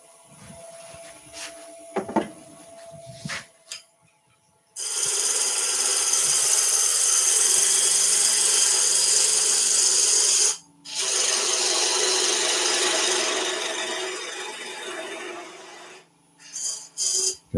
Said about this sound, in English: turn the lathe on